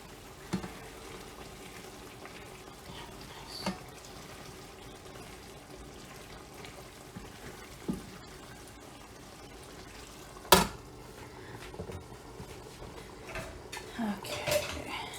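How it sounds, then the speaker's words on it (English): Pasta bolognese sauce is stirred in a pan, with soft scraping, a low simmer and a few scattered clinks of a utensil against metal, including one sharper knock midway. "I'm going to give this a quick stir real fast."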